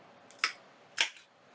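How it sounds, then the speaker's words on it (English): A tiny handheld hole punch bites through a folded paper flap twice, two crisp, close clicks about half a second apart in an otherwise quiet room. "I'm going to use my little tiny hole punch again, and I'm going to punch 2 small holes right here"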